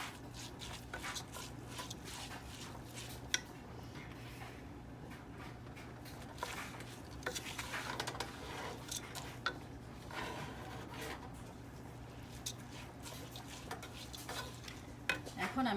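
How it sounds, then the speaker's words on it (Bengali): Rice being fried and stirred in a pot for chicken biryani, with steady scraping and clinking of a spoon against metal over a soft background hum, repeated sharp ticks scattered throughout. "চালটাকে খুব ভালোভাবে আস্তে আস্তে সুন্দর করে ভেজে নিতে হবে।"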